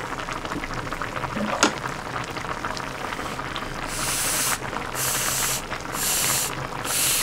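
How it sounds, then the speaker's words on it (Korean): A pot of stew boils on a table, giving a continuous close bubbling and hissing simmer with bursts of sizzling spray partway through. "보글보글 소리에 졸리네요."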